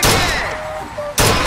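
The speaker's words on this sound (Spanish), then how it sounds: "Dispare a los Vox cuando aparezcan." Dense bursts of rapid gunfire at a shooting gallery in BioShock Infinite fill the clip, briefly dipping to a lower rumble before another loud volley, with a game-like electronic tone in between.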